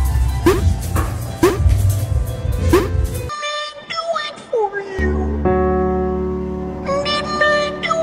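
A fat dog barks in a quick series of sharp yaps up close, then the scene cuts to a train horn sounding in sustained tones.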